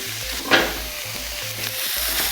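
Minced beef frying in a pan, a steady close sizzle with a sharp scrape of stirring near the start and softer stirring clatter afterwards.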